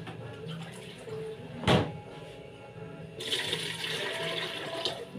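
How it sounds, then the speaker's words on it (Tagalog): Hot water poured over live lobsters before cooking, a splashing rush of water that starts with a brief burst and then runs steadily in a loud stream through the second half, in a home kitchen. "Bubuhusan natin ng mainit na tubig bago natin lutuin"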